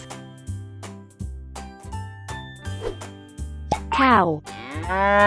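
A cow moos loudly near the end, a long drawn-out low call that comes after a run of rhythmic knocking and plopping sounds.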